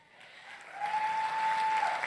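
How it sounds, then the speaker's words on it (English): Modest crowd applause at a political conference swells gradually from quiet to a fuller but restrained level, with a faint steady tone running through the middle. "Lukewarm applause"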